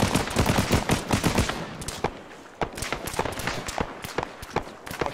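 Rapid bursts of automatic gunfire from an Arma 3 firefight on Tanoa, sharp cracks in quick clusters that thin into scattered single shots, loud and close with little talk.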